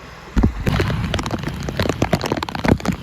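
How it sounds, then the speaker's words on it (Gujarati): Heavy monsoon rain pours steadily and loudly up close, with sharp splashing patter throughout; no distinct thunder clap stands out. "ફૂલ વરસાદ ને ગાજવીજ એને ચાલુ જ છે આપણે."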